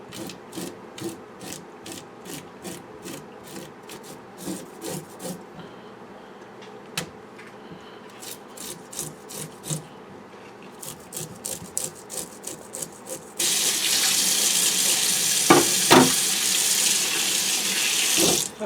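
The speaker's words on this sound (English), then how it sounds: "Now that we've washed it, we're going to scale it." Freshly caught large trout being scaled beside running water, with a rapid series of scraping strokes in rhythmic bursts, pausing, resuming, then giving way to a loud tap gushing into a sink while scraping continues underneath.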